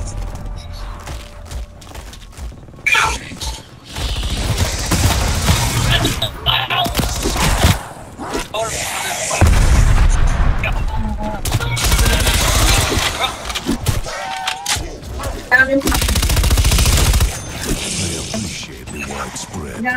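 Gunfire in Call of Duty Black Ops Cold War Zombies, with loud, dense repeated blasts in several bursts over the whole stretch, mixed with clattering mechanisms and players talking over it.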